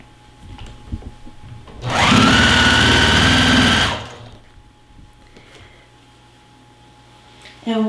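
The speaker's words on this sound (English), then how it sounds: "And what sewing machine are you using?" A Juki TL-2010Q sewing machine whirs steadily for about two seconds of fast stitching, close and loud, in an otherwise quiet home sewing studio.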